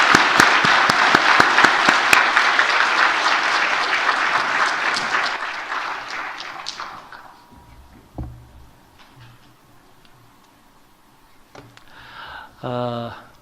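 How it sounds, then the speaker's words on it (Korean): A church congregation bursts into dense, warm applause that fills the room for several seconds, then thins and fades away, followed by a few scattered sounds and a voice speaking near the end. "우리 뜨거운 박수로 다시 한번 축하하겠습니다."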